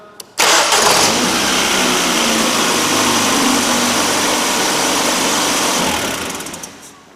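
A car's starter motor cranks the engine, a loud, close, steady churning that lasts about six seconds before fading out at the end.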